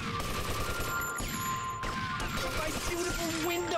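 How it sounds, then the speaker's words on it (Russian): Gunfire in GTA Vice City erupts in a rapid crackling fusillade of shots mixed with crashing impacts, loud and continuous, with a faint voice underneath. "Кто по мне стреляет?"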